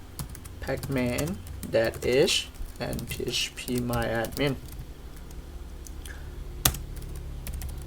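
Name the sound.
typing a terminal command on a computer keyboard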